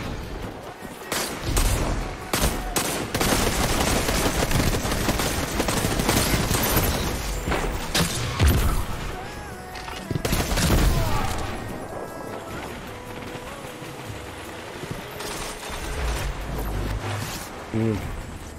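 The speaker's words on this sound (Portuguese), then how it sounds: "os gajos estão com o machine gun" Machine gun fire in a shooter video game, bursts of rapid shots mixed with heavy booms and crashes, loud and dense across the whole stretch with game music and effects around them.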